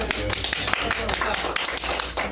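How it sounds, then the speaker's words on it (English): An audience at an art gallery opening reception applauds after a talk, brisk close clapping mixed with voices speaking through it. "Applauding you."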